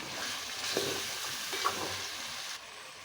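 Salt being stirred into chicken curry, a continuous sizzle with a couple of light scrapes and taps in the pan.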